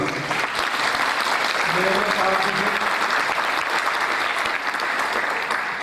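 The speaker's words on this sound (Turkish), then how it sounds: "şimdi kendilerine bir alkış isteyip yerine oturasınlar" Sustained audience applause fills an indoor hall at a Turkish religious youth program marking the Conquest of Mecca, loud and steady throughout, with a brief voice rising faintly through the clapping midway.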